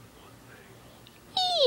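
Stray kitten gives a single short, bright meow near the end after a quiet stretch, loud and close.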